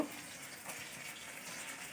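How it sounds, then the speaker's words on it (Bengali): Small fish fry in hot oil with a soft, continuous sizzle and crackle, quiet and close, with no talking. "আর এখনও মাছ ভাজছি"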